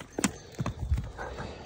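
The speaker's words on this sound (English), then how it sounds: "that's my horse. He's Tennessee Walker." Hooves of a Tennessee Walker horse used as a racking horse clip-clop on the ground at a farm, several uneven close strikes in quick succession with no talking.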